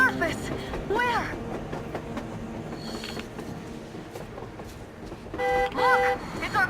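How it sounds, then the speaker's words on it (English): Train passing in the video game Metro Exodus, with rumbling wheels, clanking cars and horn-like tonal toots at the start and near the end, heard under excited speech. "A damn train on the surface!"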